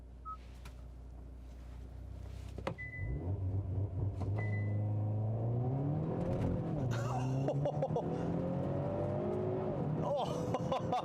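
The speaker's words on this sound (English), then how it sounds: "let's try the launch control one more time." Hyundai Veloster N hatchback with DCT gearbox launching hard with launch control: engine note climbs steadily in pitch as it accelerates, loud and close throughout, with a brief idle before the launch.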